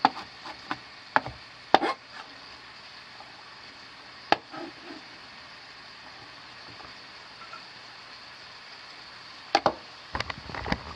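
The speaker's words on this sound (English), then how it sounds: "I'm also cutting up 3 brown mushrooms" A knife slices three brown mushrooms on a cutting board for nachos, giving a handful of sharp, irregular taps up close over a quiet steady hiss, with long gaps between cuts and no talking.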